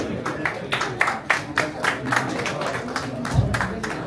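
Scattered hand clapping at an honouring ceremony for singers in Korea, a small group applauding in uneven bursts while people talk over it.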